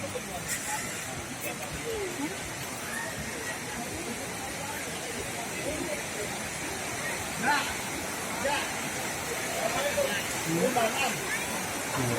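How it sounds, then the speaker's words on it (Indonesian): Curug Sawer, a waterfall at Situ Gunung in Sukabumi, West Java, gives a steady broadband rush of falling water with a hint of distant traffic, while people talk over it. "Oh, tuh udah kelihatan tuh curugnya."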